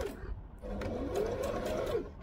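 A sewing machine runs steadily as it stitches a narrow double-folded fabric hem for a wrap skirt, giving a close, continuous motor whir with a rising and falling pitch.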